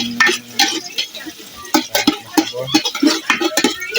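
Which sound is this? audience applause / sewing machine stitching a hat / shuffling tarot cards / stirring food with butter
stirring food with butter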